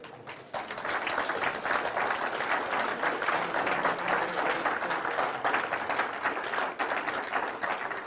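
Sustained, dense clapping from a conference audience, starting abruptly and holding steady and loud for several seconds.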